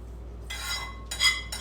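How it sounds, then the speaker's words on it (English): Utensil scraping and clinking against a pan while eggs and bacon pieces are stirred together with a cheese wedge: two or three short, bright metallic clinks separated by near-silence, close and clear. "So now I'll just kind of mix it up with that cheese wedge"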